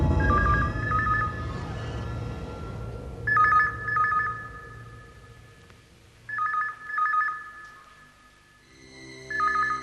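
A mobile phone rings with a bright electronic ringtone in repeated double bursts, separated by short gaps. It is fairly close and clear, with no talking over it.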